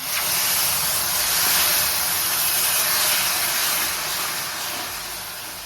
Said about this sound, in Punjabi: ਹੁਣ ਆਪਾਂ ਦੇ ਵਿੱਚ ਗਰਮ ਪਾਣੀ ਪਾ ਦਾਂਗੇ